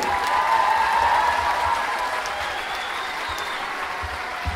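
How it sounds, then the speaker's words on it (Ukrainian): A studio audience claps during an interview show, producing steady, sustained applause at an even level, with some faint crowd murmur underneath. "А нам ще потрібні аплодисменти, друзі."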